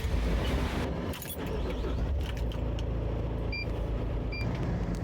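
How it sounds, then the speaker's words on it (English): A work vehicle drives to a cleaning job site, giving a steady, loud engine and road rumble heard from inside the cab with brief clicks and rattles, and no voices. "Let's drive to our job site."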